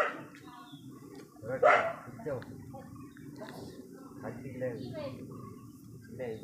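Dog at a hillside tribal settlement barks in a few short bursts amid people talking nearby; the barks are moderately close and partly overlapped by the voices.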